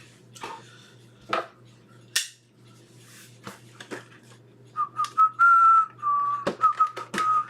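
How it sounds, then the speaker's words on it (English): Someone whistles a short tune, broken by sharp clicks and snaps, with quiet room noise and a faint low hum underneath. "Why are you whistling right now"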